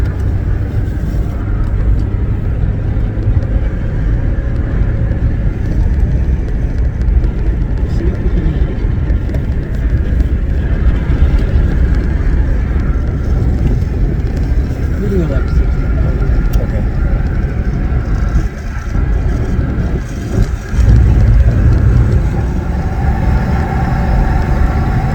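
A 1955 Chevy Bel Air cruises on the road at around 55 mph, its engine and road noise a loud steady low drone from inside the car, with a brief dip and surge near the end.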